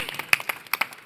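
Scattered hand claps from a small audience at a San Francisco tech inclusion panel event, sparse and uneven with distinct individual claps rather than a full ovation.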